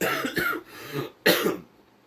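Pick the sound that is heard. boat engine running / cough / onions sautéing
cough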